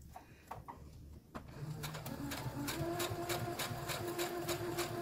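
A sewing machine stitches a cotton mask at close range, building into a steady, rapid mechanical run after a few quiet starts, with regular needle clatter and a humming motor that stays up front throughout.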